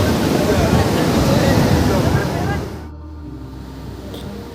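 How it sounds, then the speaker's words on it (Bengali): Sea waves at Digha beach roar in a loud, dense rush of surf with wind buffeting the microphone, then drop suddenly to a quieter, softer wash near the end. "ঢেউয়ের সাউন্ডটা একবার শুনছো খালি"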